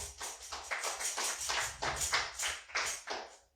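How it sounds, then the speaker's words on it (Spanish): A church congregation claps for the Lord in rhythmic unison, about eight to ten firm, evenly spaced claps, close and clear with no talking. "Dele un fuerte aplauso al Señor."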